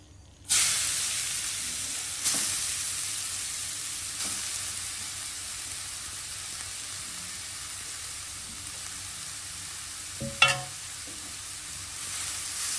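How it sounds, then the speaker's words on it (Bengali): Grated carrots fry in ghee in a kadai, giving off a continuous sizzling hiss with occasional stirring scrapes and a brief louder clatter of the utensil near the end. No one speaks. "এবার গাজর দিয়ে গাজরগুলোকে খুব ভালো করে ঘি দিয়ে ভেজে নেব।"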